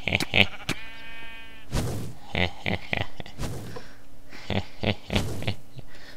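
Minecraft sheep bleat several times in quick succession, close and fairly loud, mixed with game sound effects and clicks, with no talking over them.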